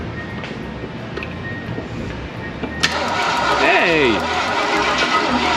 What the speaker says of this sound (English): we just put a fresh battery in it, and we're going to test a few things. We're going to touch some stuff, and let's see if it cranks over.